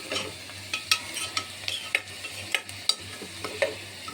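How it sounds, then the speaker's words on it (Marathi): Chopped onion frying in a pan for chole pulav, with steady crackling sizzle and sharp scrapes from stirring spread through the clip over a low hum, no voices. "इथे आपण पाहू शकता आपला कांदा जो आहे तो छान फ्राय झाला आहे"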